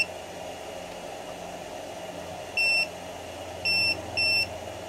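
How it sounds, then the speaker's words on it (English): A cheap 1000-watt power inverter gives three short electronic beeps as an over-voltage warning, the first one alone and the last two close together, over a steady low hum. "it beeps and tells you that it's over voltage"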